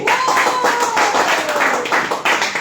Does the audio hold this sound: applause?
yes